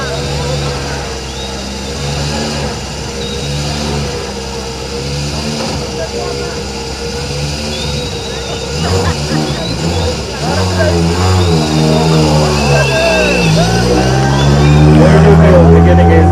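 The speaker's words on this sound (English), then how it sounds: "Now that's the sound of a proper rally car just about to begin his journey." A rally car at the flag-off of the Safari Rally Kenya revs and pulls away, its engine note climbing and growing louder toward the end, under continuous commentary and crowd noise.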